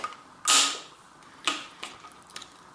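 A wrench with an extension loosens a bolt on a RockShox Jett XC bicycle fork, giving one loud creaking crack followed by a few shorter ratcheting clicks, close and with no talk.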